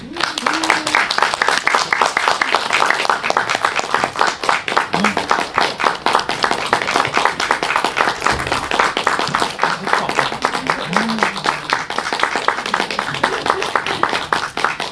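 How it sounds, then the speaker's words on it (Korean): An audience at a film screening talk gives steady, dense applause to welcome the director and actors, continuous clapping from many hands filling the whole stretch, with faint voices underneath. "큰 박수 부탁드립니다."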